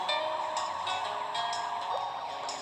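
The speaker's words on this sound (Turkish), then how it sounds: "Ya şu sireni kısacağım ya." A loud, continuous wailing siren close by, its pitch sweeping up and down in steady cycles with no other sounds standing out.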